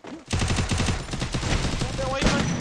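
Rapid automatic gunfire in a battle royale video game, a loud, dense burst of shots that runs almost unbroken for about two seconds, with a faint voice underneath.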